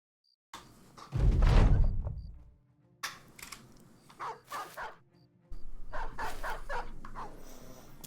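Dogs barking in the video game Battle Brothers: a heavy bark with a low thump early on, then several sharper, quicker yelps and barks in short bursts, close and loud, alone without talk.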